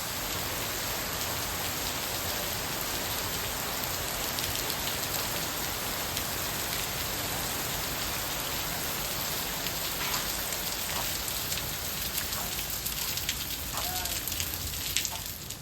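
Steady rain falls close by near a bridge on the coast at Puri, a dense continuous hiss of drops on surfaces filling the whole stretch without pause.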